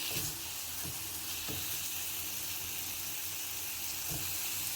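Chicken tikka pieces frying on a low flame, a steady close sizzle with soft steam hiss and a few faint scrapes of stirring or turning throughout, no talking.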